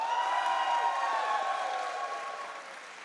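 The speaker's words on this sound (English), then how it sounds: "Round of applause." Audience clapping at a youth gaming competition award ceremony, a soft continuous wash of applause that slowly tapers off over a few seconds.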